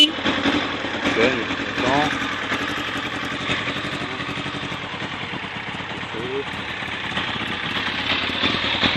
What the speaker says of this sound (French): Le ralenti n'est pas très stable.